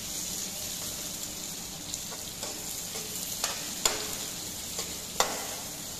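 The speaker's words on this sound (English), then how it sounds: "So basically we are going to soften this onion, make it soft, not to turn it brown." Sliced onion softens in a pan over a slow flame, giving a steady low sizzle. Occasional scrapes and clicks of stirring come through close by, and no one speaks.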